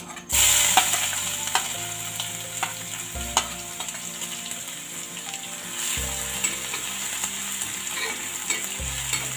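Garlic and chili sizzle steadily in oil in a pan over a medium flame, with occasional stirring scrapes and clinks, and no one speaking.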